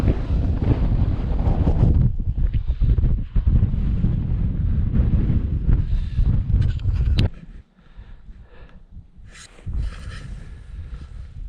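Cold wind gusting across an open mountainside, heavy roaring buffets against the microphone for several seconds that suddenly drop away to a quieter, hissing breeze with brief later gusts.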